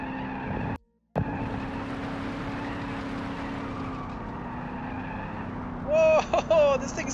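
A powerful engine in a 1970s Soviet car in the Automation game revs hard in a continuous roar, broken by a short cutout near the start, with squealing tones toward the end.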